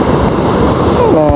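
A large river rushing in a steady, loud, broadband roar close by, with no break across the short moment.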